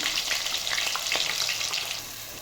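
Ground masala with green chillies sizzles in hot oil for mutton biryani, a loud, continuous crackling hiss with light stirring scrapes, close up and steady, no talk.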